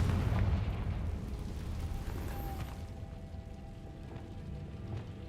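A Confringo blasting spell explodes in Hogwarts Legacy on Hard Mode, a deep rumbling boom that opens loud and rolls into a long, fading low roar with faint game ambience behind it.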